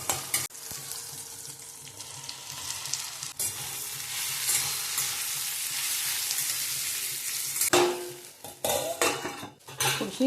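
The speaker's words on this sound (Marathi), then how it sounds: "छोटे टोमॅटो टाकले त्याच्यात, तर ते थोडंसं परतून घेते मी" Small tomatoes sizzle steadily in a hot pan with mustard seeds and asafoetida while a spoon scrapes and stirs. Clinks of the utensil against the pan grow busier near the end.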